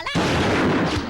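A single loud, sharp gunshot fired at a crow in a comedy scene, followed by a sustained booming rumble that fills the whole moment.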